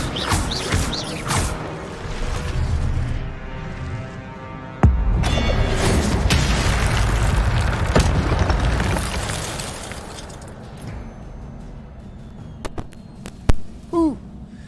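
An Incendio fire spell cast in a Harry Potter video game: a sudden booming burst of flame that roars loudly for several seconds, then fades into quieter game ambience with a few sharp clicks and chimes.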